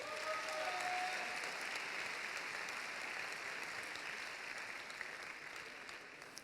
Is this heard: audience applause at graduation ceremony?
yes